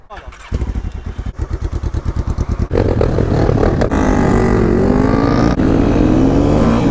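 Nitro-equipped motorcycle engine, a rapid train of loud, sharp firing pulses climbing in pitch, then a sustained high, harsh rev that holds and wavers to the end.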